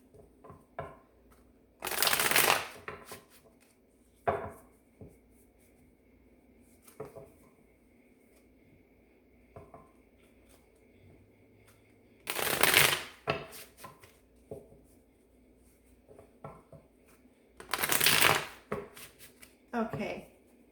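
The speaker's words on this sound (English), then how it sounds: "Sorry if the shuffling is too loud." Tarot cards are shuffled in three loud, rustling bursts spaced apart, with softer card handling and taps between them in a quiet room.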